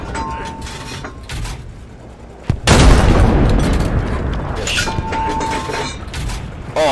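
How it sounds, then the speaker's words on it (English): An artillery shell explodes in Hell Let Loose with a sudden loud boom, followed by a long, rumbling roar of debris and settling noise that stays heavy for several seconds. "The shell landed right on top of him."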